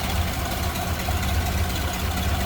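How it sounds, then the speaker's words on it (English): A 1929 Ford Model A Roadster engine with a single downdraft carburetor idles smoothly and steadily, a close, even low rumble holding constant level throughout with no talking. "Very smooth running, nice clean engine bay too."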